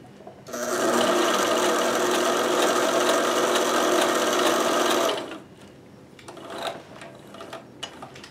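A sewing machine with a walking foot, needle set in the left position, stitches a 3D printer cover in one steady, fast, close whirring run of about five seconds, then stops, leaving faint clicks and handling noises.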